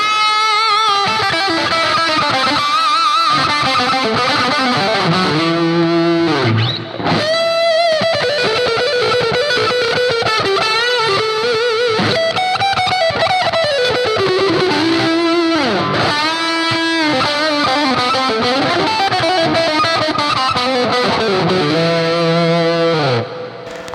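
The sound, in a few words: electric guitar with amp overdrive boost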